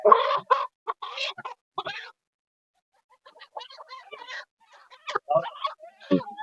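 Native country chickens cluck in short, close bursts, a quick run of calls, a brief pause, then more clucking and squawks.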